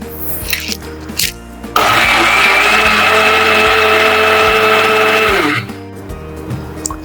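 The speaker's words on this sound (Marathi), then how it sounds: "या सगळ्या मिक्सरला एकदा मिक्सरमधून हलकासा 1-2 पल्स देऊन काढून घ्यायचा आहे आपल्याला" A kitchen mixer grinder whirs loudly through a lemon pie mixture in one sustained burst of about four seconds, its motor whine steady before cutting off, with quieter kitchen clatter around it.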